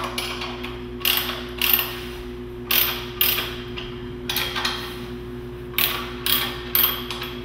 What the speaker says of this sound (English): what you want to do is temporarily lock off these clamps.